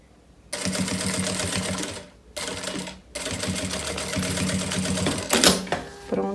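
A sewing machine stitches a folded strip of backpack fabric, running in steady rapid bursts separated by two brief pauses, ending with a short clatter.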